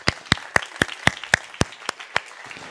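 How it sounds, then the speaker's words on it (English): Applause at a sports-excellence talk at the SNFCC: about nine distinct, evenly spaced claps in a steady rhythm, close and fairly loud, with no voices over them. "okay, just give him applause."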